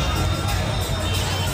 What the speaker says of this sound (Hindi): लोगों की भी भीड़ काफ़ी ज़्यादा है यहाँ पे।